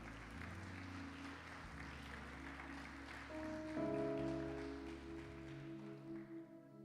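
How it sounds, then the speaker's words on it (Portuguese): A church congregation applauds during a Portuguese-language service, a soft, diffuse clapping that blends with sustained keyboard chords and fades out near the end. "aplauda o Senhor Jesus por isso, por favor."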